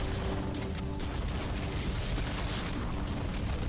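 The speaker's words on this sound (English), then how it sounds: "Man, there is a lot of explosions." Dense, continuous rumbling explosions fill the whole stretch, loud and layered with no pauses, a barrage of blasts in the Halo: Combat Evolved finale.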